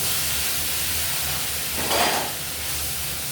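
Spice paste for an egg curry hisses and sizzles as it hits a hot pan, the frying surging briefly over a low steady background hiss.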